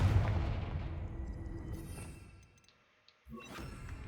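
Confringo fire spell blast in a Harry Potter video game, a heavy booming explosion that rumbles and decays into quiet over a couple of seconds before a second sharp impact rings out.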